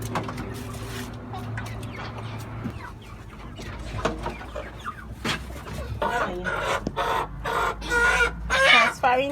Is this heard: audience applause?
no